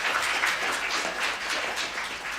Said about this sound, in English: So a big round of applause to Dr.